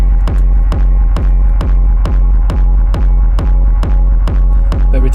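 A techno track's new bass part, a loud, deep pulsing bass hitting in a steady, even beat with a sustained low hum underneath, repeating evenly without any voices.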